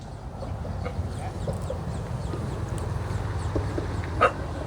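Chickens cluck at an outdoor fish market, with a few scattered calls over a low, steady background rumble. A louder squawk comes near the end.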